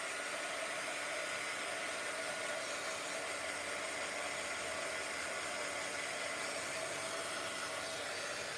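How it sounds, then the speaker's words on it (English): A hair dryer blows steadily at close range during a studio watercolor painting session, making a constant even whooshing roar that holds unchanged throughout with no talking. "Alright, let me blow dry him. I need the hair blow dried."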